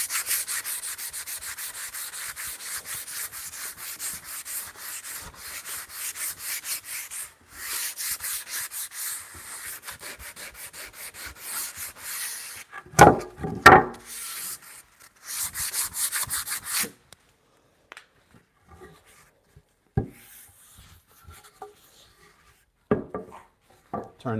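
Hand plane shaving softwood timber in a traditional timber-frame workshop: long, steady rasping strokes repeat rhythmically for several seconds, then a pause followed by a few shorter, sharper passes and scattered knocks, close and fairly loud.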